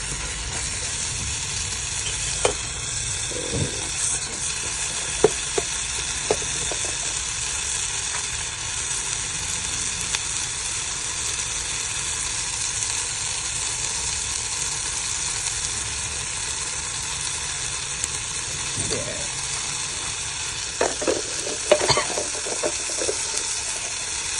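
Mashed tomatoes frying in a kettle as they are stirred, a steady close sizzle with a few scraping stir sounds and faint occasional background noises.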